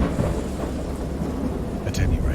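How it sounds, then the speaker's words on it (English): Thunder rumbles low and continuously through a wild storm, with rain hissing steadily all around and a brief brighter crackle near the end, the sound loud and enveloping. "I heard pearls of thunder and other tones which nature utters only in her wildest moods"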